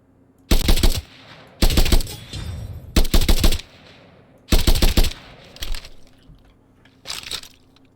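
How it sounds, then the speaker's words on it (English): Gunfire from a video game in development, firing at a target in six separate loud bursts of rapid shots with short pauses between them. "So if I go into this now and I fire at him a few times, it'll be a new one each time."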